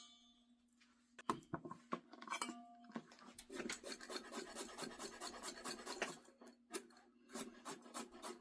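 Food rasped across a grater while making homemade lasagna, starting with a few scattered scrapes and then settling into steady rhythmic rubbing strokes, close but fairly quiet, with no talking.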